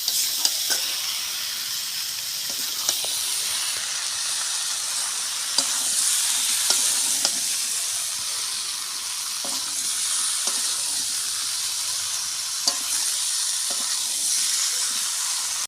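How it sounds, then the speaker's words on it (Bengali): Boiled jackfruit and potato stir-frying in a pan give a continuous loud sizzle, with spatula scrapes and clicks scattered through it. "দিয়ে এবার আমি আরও ভালো করে কষাবো, একটু সময় ধরে কষাবো।"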